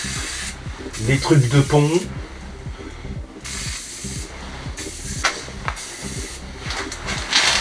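Penetrating oil sprayed from an aerosol can onto rusty parts of an old mower pulled from a lake, short hissing bursts separated by gaps over a rhythmic ticking background, with someone speaking French briefly.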